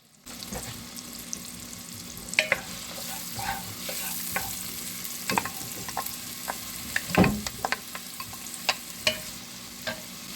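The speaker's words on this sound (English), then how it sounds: "Right, so I got my onions going, also got the garlic going, and then of course celery." Onions, garlic and celery fry in olive oil for a cream of broccoli soup, sizzling steadily up close while a utensil scrapes and taps through the pan now and then, with no voices.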